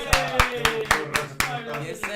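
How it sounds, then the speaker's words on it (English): A small group gives a round of applause for a special guest at a show taping, about a dozen sharp, close hand claps in uneven rhythm, with talk underneath. "Can we get a round of applause"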